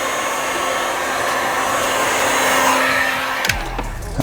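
Heat gun blowing hot air over the edges of material, a loud steady close-up whoosh that cuts off abruptly near the end, followed by a few small clunks.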